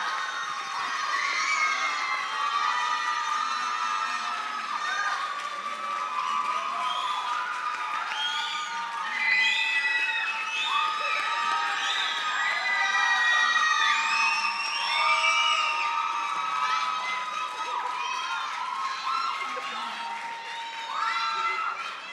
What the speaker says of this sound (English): So let's give the absolute biggest round of applause for Geetika Chowdary.